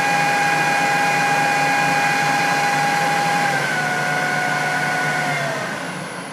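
A Jet-16 milling machine spindle runs at about 1,500 RPM, a smooth, loud steady motor whine with clear sustained tones that dip slightly in pitch and ease off toward the end, with no talking.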